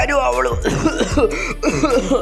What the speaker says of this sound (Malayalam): നമ്മുടെ താൻസർക്ക് വളരെയധികം ചുമയൊക്കെ വന്നുകൊണ്ടിരിക്കുവാണ്